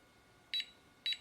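A Nanny baby movement monitor gives its pre-alarm as two short, high, faint electronic beeps about half a second apart, with quiet between them.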